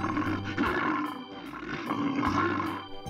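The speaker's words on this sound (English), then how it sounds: "This is Polar Bear." A polar bear roaring in an animal guessing game, a loud, rough growling roar that swells and fades in several pulses across a few seconds.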